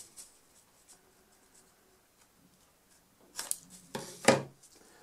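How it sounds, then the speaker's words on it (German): Scissors snip a small piece off a folded paper origami funnel: a quiet stretch, then a quick cluster of sharp crisp cuts and paper rustles near the end. "Aber für den Trichter schneiden wir jetzt"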